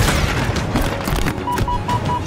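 Enemy sniper fire in Halo Infinite, heard as heavy booming shots and impacts over a loud, dense battlefield din, with short repeated beeping tones near the end.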